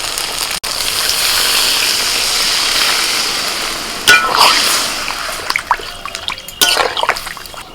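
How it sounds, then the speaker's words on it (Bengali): Water pours into a pan of spiced potatoes fried with chopped tomato, a loud steady rushing gush that gives way to sizzling and uneven bubbling splashes. "এবার আমি জল দেবো"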